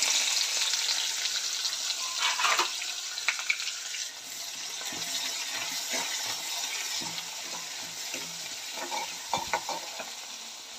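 A handful of onions sizzle in hot oil with browned chana dal and urad dal for pumpkin poriyal, frying loudly and close up, with repeated stirring scrapes and clinks throughout.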